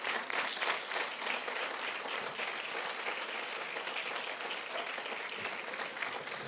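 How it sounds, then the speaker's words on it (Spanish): A church congregation applauding during a sermon on baptism with the Holy Spirit, with steady, fairly even clapping from many hands that holds throughout at moderate level. "Denle un aplauso al Señor."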